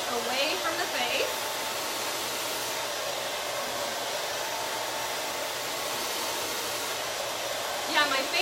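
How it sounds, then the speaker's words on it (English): A blue Babyliss travel-size professional hair dryer blowing steadily during round-brush styling, a loud, even whoosh of air throughout with faint higher whines near the start and end. "I really like that tiny Babyliss dryer. It's a blue professional dryer"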